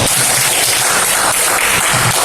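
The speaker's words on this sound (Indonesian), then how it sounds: "Ya, tepuk tangan dulu." Applause breaks out in a classroom as students clap for a classmate's answer, a dense steady patter of many hands sustained evenly for a couple of seconds without any talking.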